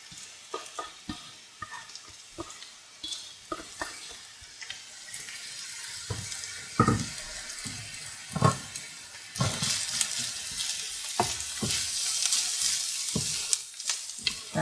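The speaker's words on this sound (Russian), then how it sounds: "Лук с морковью обжарила." Onion and carrot fry in a pan in a village kitchen, with a soft crackle that grows into a louder, fuller sizzle partway through, broken by scattered clicks and scrapes of stirring.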